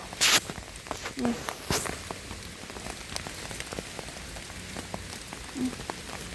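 Rain patters on leaves in a forest during mushroom picking, a soft, continuous spatter with scattered nearby drops, rustling and footsteps.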